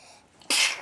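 A single sudden sneeze bursts out close by after a brief quiet breath, sharp and loud for a moment before trailing off.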